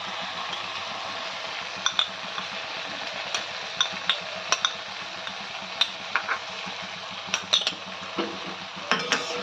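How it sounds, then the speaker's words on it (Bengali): Prepared sauce added to vegetable chowmein noodles in a pan on low heat, with repeated light clinks and scrapes of a utensil over a steady soft sizzle and hum. "ঠিক এই সময় তৈরি করা সসটা আমরা দিয়ে দিচ্ছি।"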